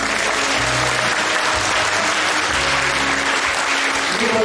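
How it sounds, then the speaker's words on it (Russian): A large audience applauds at a 2012 school graduation ceremony in Belebey, Bashkortostan, the clapping dense, loud and continuous from start to finish. "Ваши аплодисменты."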